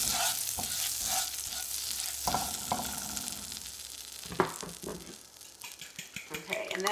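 Butter sizzles in a pan as it is stirred, a steady crackling hiss with clinks and scrapes of a utensil against the pan, and a voice talks over part of it.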